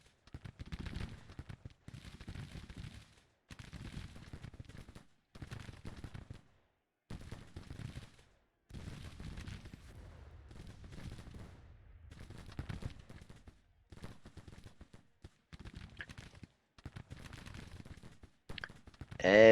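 Infantry volleys in the Civil War strategy game Grand Tactician crackle in repeated short bursts separated by brief pauses, fairly faint and distant, with a louder burst at the very end.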